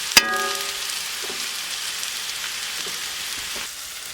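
Smothered potatoes frying and browning in an open pan over a camp stove in a tent, a steady close sizzle that begins with a sharp clink and then hisses evenly before easing off near the end.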